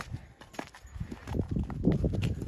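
A stallion's hooves clip-clop at a walk on its first trip out to a mare, the steps fairly close and gradually growing louder over low background noise.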